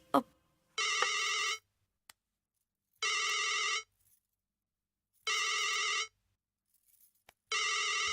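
A telephone rings in three and a half evenly spaced bursts, each about a second long, with silent gaps between them, loud and close.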